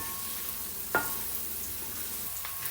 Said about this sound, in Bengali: এখন আমি এই পেঁয়াজটা ভেজে নিব লাইট ব্রাউন কালার না হওয়া পর্যন্ত